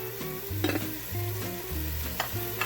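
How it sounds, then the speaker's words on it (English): A big pat of butter sizzles with onions in a pan while making homemade Alfredo sauce, a steady close frying hiss broken by a few spoon stirs, with no voices. "I'm just adding a nice big pat of butter, and then that's going to help my onions break down a little bit more"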